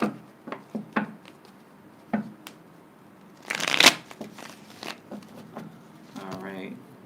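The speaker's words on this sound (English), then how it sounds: "Alright, one more shuffle." A deck of tarot cards being shuffled, soft riffles and taps scattered through the clip with one loud, fuller riffle near the middle, close up in a quiet room.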